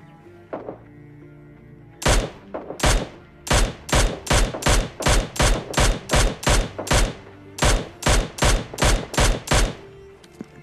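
In the game PUBG Lite, a Mini14 rifle fires in a rapid, evenly spaced burst of about twenty loud, sharp shots. The volley starts after a couple of faint earlier shots and stops abruptly near the end.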